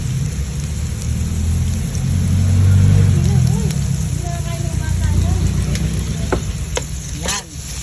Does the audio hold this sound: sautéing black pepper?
yes